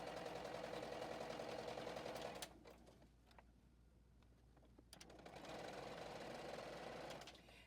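A JUKI sewing machine stitches a fabric basket in two bursts of rapid, steady whirring, with a quiet pause between them while the fabric is repositioned.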